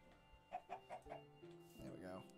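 Chickens cluck in a quick run of four short notes in the video game Minecraft, then a longer warbling call follows, quiet and close.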